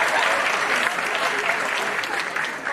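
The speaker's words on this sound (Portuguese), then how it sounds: "Vou repetir para vocês aplaudirem." Audience at a law-week lecture applauding, dense steady clapping from many hands that stays loud throughout and only slightly thins toward the end.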